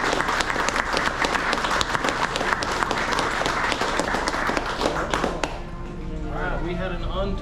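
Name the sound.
audience applause at charity fishing event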